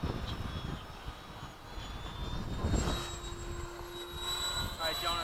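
A Hobby King Avios 90mm MiG-17 RC jet flies at half throttle, a steady distant turbine-like whine and roar with a rising tone near the end, while people talk over it outdoors.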